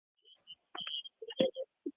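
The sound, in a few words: phone alarm ringing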